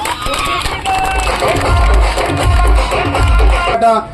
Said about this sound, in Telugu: గట్టిగా చప్పట్లు కొట్టాలండి